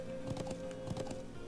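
Horse hooves clip-clop at a steady trot in Trails of Cold Steel, soft repeated beats under a constant tonal game hum.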